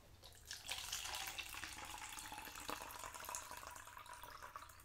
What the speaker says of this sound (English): We're gonna pour this in the Eagle's cup here.